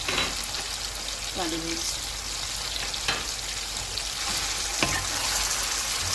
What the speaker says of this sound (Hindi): इसे हम 2 से 3 मिनट तक भून लेंगे